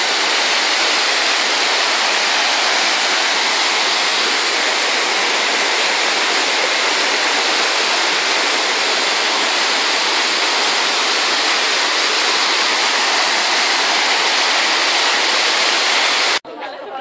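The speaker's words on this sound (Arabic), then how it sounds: "عند وجه الشلال." Reichenbach Falls near Interlaken above Lake Brienz, heard close to the face of the waterfall where spray fills the air: a loud, steady broadband roar that holds unchanged for about sixteen seconds and then cuts off abruptly.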